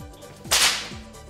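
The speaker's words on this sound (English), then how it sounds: "Let's observe how I move the whip to the speed of sound in air." A whip swung fast enough to break the sound barrier gives one sharp, loud crack, near and alone, with faint whooshes of the swing before and after.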